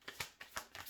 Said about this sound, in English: Okay, one more shuffle here.